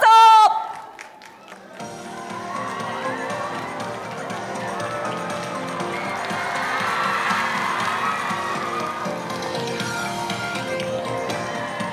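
A fan event audience in Japan greets two Korean drama actors entering from the back of the hall with cheering and crowd noise. After a brief opening announcement voice, a dense, sustained wash of crowd sound continues steadily throughout.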